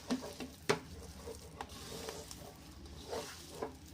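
Hands mix masala into leftover idli pieces for Idly 65, making soft, quiet squishing and light tapping sounds with a few sharper clicks, close by and faint, with no talking.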